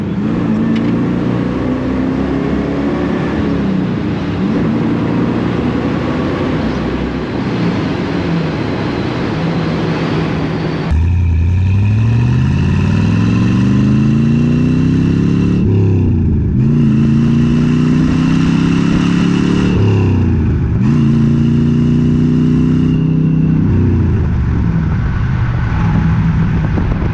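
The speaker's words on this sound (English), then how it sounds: "Even with the 327, this car has plenty of get up and go." A restored 1965 Chevrolet Corvette convertible with a 327 V8 drives along, a steady engine drone giving way to loud repeated revving climbs through the gears, heard from inside the car.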